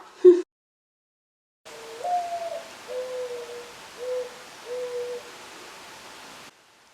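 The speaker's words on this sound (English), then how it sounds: "Was that an owl sound?" An owl hoots several times in a steady low series, the first call rising and wavering, heard clearly in a quiet setting after a brief knock.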